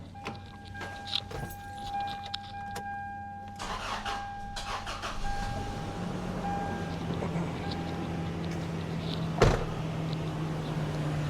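A 1999 Toyota Tacoma engine cranks and starts, a steady mid-pitched engine hum running through the clip with a sharp knock near the end, keys faintly jangling early on.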